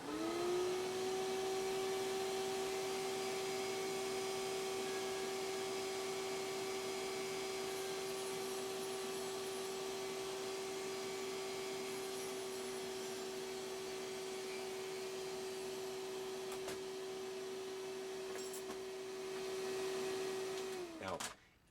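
An electric mandrel spinner grinds a custom cork to a taper, a loud continuous motor whine with a steady pitched hum that holds for about twenty seconds before winding down abruptly at the end.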